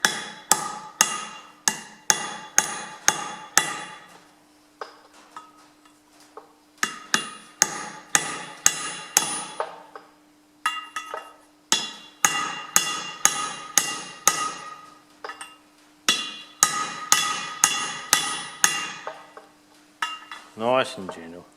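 Bursts of quick metallic hammer blows on a 7/8 long socket driven into a Ferguson FE35 rear axle housing, close and ringing, separated by short pauses with a faint steady hum between runs.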